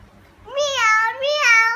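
A young child imitates a cat, giving two clear, drawn-out meows in quick succession, close and fairly loud in a quiet room.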